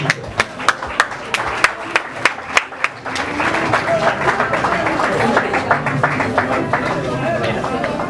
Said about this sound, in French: Veuillez l'accueillir sous vos acclamations.